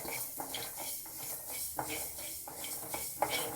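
Mustard seeds roasting in a pan over low heat while being stirred, heard as a soft sizzle with rhythmic scraping strokes and occasional metallic clinks of a spoon against the pan, close and without speech.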